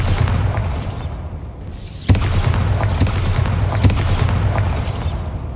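A Bombarda explosion spell cast in Hogwarts Legacy, deep booming blasts with sharp cracks near two and four seconds over a steady low rumble, loud and close.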